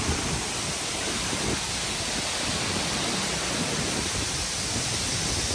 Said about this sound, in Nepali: अक्टोपस झरनामा